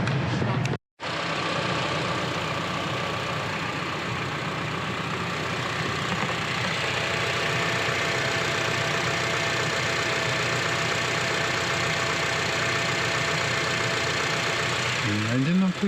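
A third-generation Honda CR-V with about 60,000 km sits idling, its engine giving a steady, even hum that carries on alone at close range after a brief dropout near the start.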